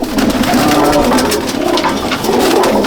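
Pigeons in a loft at Jangipur, Murshidabad, coo in a dense, continuous chorus of low throaty calls, close and loud, with no one speaking.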